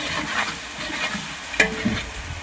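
Garlic being stirred into onions frying in ghee for ghee rice, a steady sizzle with a couple of sharp scraping clicks from the spoon near the end, no talk.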